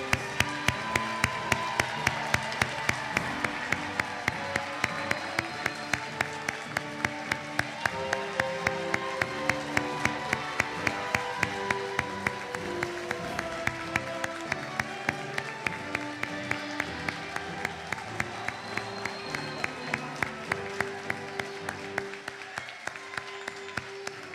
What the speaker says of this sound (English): Let's give our graduates another hand of applause.